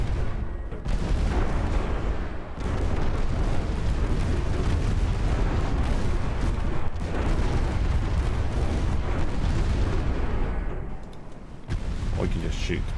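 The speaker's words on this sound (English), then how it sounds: "Hose it down with 40mm." Rapid, heavy 40mm gunfire in a naval video game pounds continuously against a ship, producing a dense, loud, booming roar with barely a pause.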